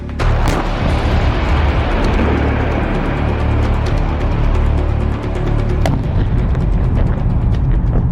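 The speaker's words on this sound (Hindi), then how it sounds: "अचानक एक ड्रोन क्रेमलिन के ऊपर मंडराता है और फिर उसके गुंबद के पास होता है एक बड़ा धमाका" A heavy, rumbling drone explosion near a Kremlin dome, with low booming and crackling debris, loud and sustained, with sharp pops scattered through the roar.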